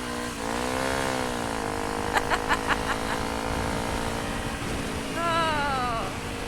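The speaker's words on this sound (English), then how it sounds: "This bike is so loud." Honda 250 L Rally motorcycle engine droning while riding, pitch rising and falling as the rider changes speed, with wind noise and a few short blips over it.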